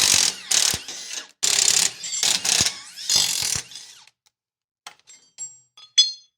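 A ratchet wrench clicks rapidly in several loud bursts while the front leaf spring U-bolts on a vehicle are loosened. Short pauses separate the bursts, and a few light metallic clinks and taps follow at the end.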